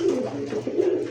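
Pigeons at a pigeon market give low, throaty coos in two or three soft rolling phrases, close by and fairly quiet, with no talk over them.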